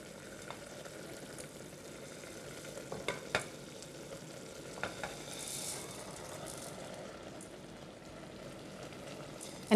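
Carrot, other vegetables and millet cook together in a pan, giving a low, even sizzle and bubbling with a few soft stirring knocks, heard close and alone.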